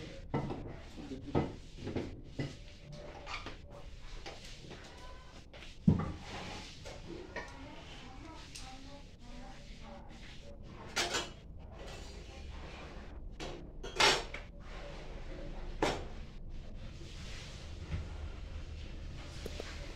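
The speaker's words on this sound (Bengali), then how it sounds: "মা ওদিকে রুটি বেলে দিচ্ছে আর আমি এখানে সেঁকে নিচ্ছি" Roti is rolled out and roasted in a home kitchen, with scattered clinks of utensils and pans, soft knocks and scrapes, and a few sharper clatters spread over a steady background while people talk.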